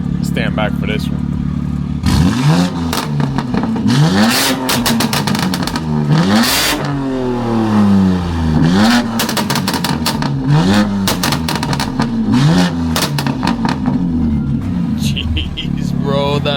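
Tuned BMW G80 M3 Competition with an IRL 3.5-inch modular catback exhaust, revved hard again and again, with sharp loud climbs and drops over a deep idle.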